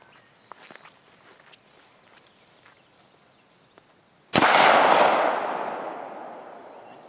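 A .223 rifle shot fired at a steel popper target 25 yards away cracks loudly and alone after quiet footsteps, leaving a long ringing decay that slowly fades.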